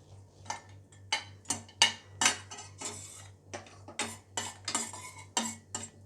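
Cashews frying in ghee in a pan for semiya kesari, mostly heard as a string of distinct metal spoon scrapes and clinks against the pan, with only a faint sizzle beneath, close and without talk.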